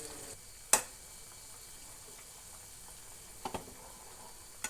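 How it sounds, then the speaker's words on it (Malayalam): Chicken pieces frying in a hot pan over full flame for butter garlic chicken, a steady faint sizzle with a sharp clack near the start and a couple of light taps later. "നമ്മുടെ എല്ലാ ചിക്കനും നമ്മൾ ഫ്രൈ ചെയ്തെടുക്കാൻ വേണ്ടി നല്ല ഫുൾ ഫ്ലെയിമിൽ തന്നെ ഇപ്പോൾ വെച്ചിട്ടുണ്ട്"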